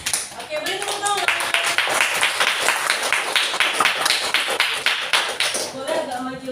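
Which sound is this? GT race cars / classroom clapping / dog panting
classroom clapping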